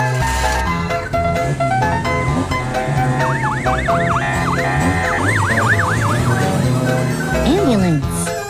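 An ambulance siren wails in repeated rising and falling sweeps, loud and close, over a busy tonal background with a voice present, ending in a quick downward slide.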